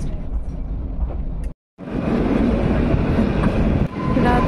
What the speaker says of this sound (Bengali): রাতের আধার চিড়ে টয় ট্রেন যাচ্ছে।